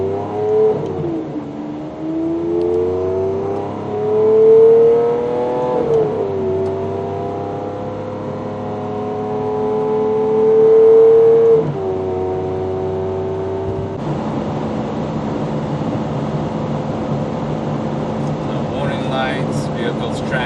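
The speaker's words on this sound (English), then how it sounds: "Just doing a quality control road test" Car interior during a quality-control road test at a European and exotic auto shop, engine droning and rising in pitch through gear changes, then a steadier wind and tyre roar at cruising speed.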